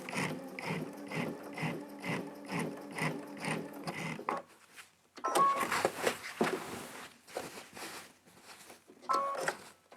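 A sewing machine fitted with a walking foot quilts outline stitching, giving a quick rhythmic run of mechanical ticks, then a short pause and an irregular stretch of slower, halting stitches and clicks.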